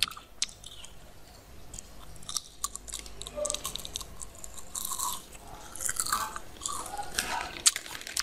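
Crunchy old-fashioned Indonesian snacks chewed close to the mic, with repeated crisp crunches and bites in irregular bursts throughout, no talking.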